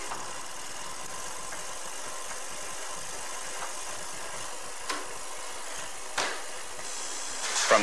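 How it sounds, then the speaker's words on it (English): An electric motor spins a 20-frame honey extractor, producing a steady droning mechanical rumble with a few faint knocks and clunks, heard continuously at moderate level with no talk. "By turning a switch, an electric motor spins the combs."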